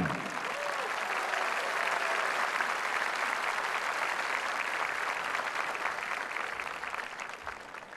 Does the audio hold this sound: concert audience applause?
yes